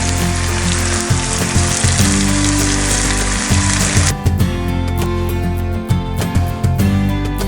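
Shrimp sizzling hard in a hot cast iron pan, a loud, continuous crackling fry that suddenly thins to sharper scattered pops and spits partway through, with no talking.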